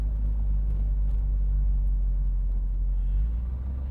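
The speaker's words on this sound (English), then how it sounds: "Listen to that exhaust. Man, this thing sounds tough." A 1971 Chevrolet Corvette's exhaust rumbles steadily while driving, a deep, constant low drone heard from inside the car with no voices.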